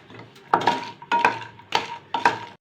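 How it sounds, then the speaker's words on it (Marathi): Black cardamom pods roasting with a little oil in a pan, heard as four distinct bursts of rattling and scraping as the pods are stirred, each with a metallic clink, separated by short pauses. "ही मसाला वेलची जी आहे ती चांगली भाजून घ्यावी"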